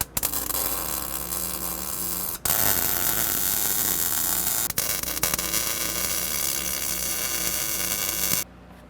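Welding arc tacking a suspension bracket on a Toyota 4Runner, loud steady buzzing crackle broken by two brief pauses, then cutting off near the end.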